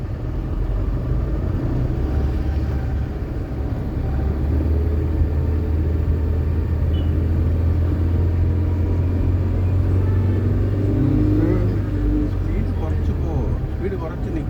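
A learner driver's car pulls away as the clutch is released slowly, with a steady low engine rumble that builds slightly while an instructor talks over it.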